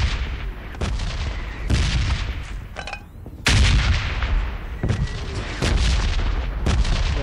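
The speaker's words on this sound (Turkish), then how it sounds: "Kafama bomba düşmüş." Bombardment explosions in the video game PUBG Mobile: a loud, dense series of booms and blasts, with several sharp impacts and rolling rumble close by, the heaviest coming midway.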